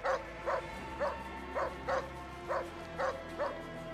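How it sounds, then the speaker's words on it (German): A dog barking in the video game Assassin's Creed Origins, a steady series of eight evenly spaced mid-pitched barks over a low background hum, with no talk. "Das ist ein Hund?"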